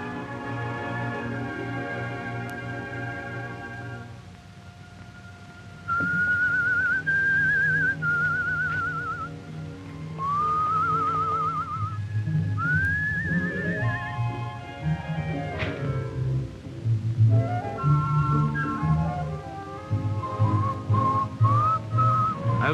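A man whistles a wandering, melodic tune over soft orchestral music, the clear sliding notes coming in phrases with short pauses, close and prominent against the quieter backing.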